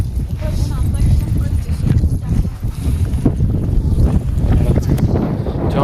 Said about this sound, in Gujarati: જો પવન આવે છે.